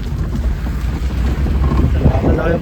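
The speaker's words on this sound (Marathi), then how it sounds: "समुद्रातून गाडी जाते." A vehicle drives through shallow seawater near a Koli fishing village at Murud Janjira, making a loud, rushing churn of water. Strong wind buffets the microphone.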